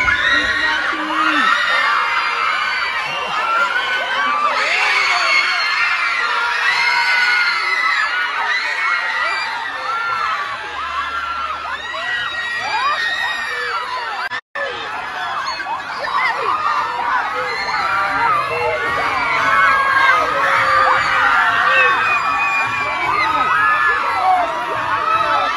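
Large crowd cheering and screaming at an awards event for the Next Generation Award, a dense, loud, sustained roar of shrill voices filling the whole stretch with only a momentary break partway through.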